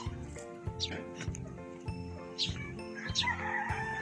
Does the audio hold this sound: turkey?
yes